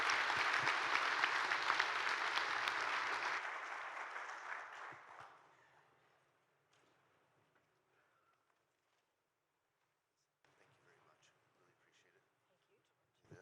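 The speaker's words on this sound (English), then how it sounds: "Let's give the panel a round of applause" An audience claps for a panel at a morning keynote session, dense applause for about three seconds that thins and fades out by six seconds, leaving near silence with faint scattered room sounds.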